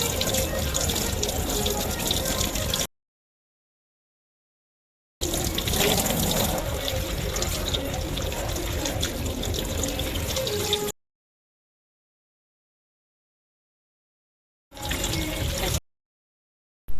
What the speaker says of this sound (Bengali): এবার আমগুলোকে ভালো করে ধুয়ে নেবো